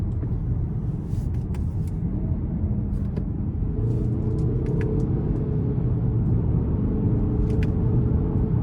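A 2024 Lincoln Corsair Reserve II with the 2.0T engine and 8-speed automatic accelerates on light throttle, its steady low cabin rumble shifting in tone as the gears change smoothly.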